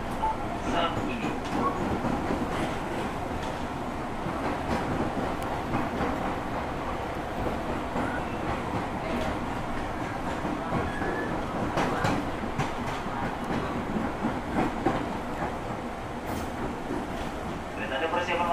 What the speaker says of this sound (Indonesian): kereta ada persiapan masuk jalur 5, pintu dibuka pintu sebelah kanan dari arah launchingnya kereta.